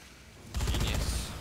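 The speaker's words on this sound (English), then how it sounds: "Try shooting the speaker that's right above me." In Dead Rising 3, a sudden burst of rapid gunfire aimed at an overhead loudspeaker cuts in after a quiet moment and rattles on loudly for nearly a second before tailing off.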